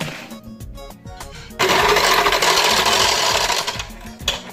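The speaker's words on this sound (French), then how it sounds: "Et on va fouetter" An electric mixer whips cheesecake filling mixed with crushed Oreo, starting with a choppy, uneven whir before switching to a loud, steady high-speed whine that lasts several seconds and then cuts out.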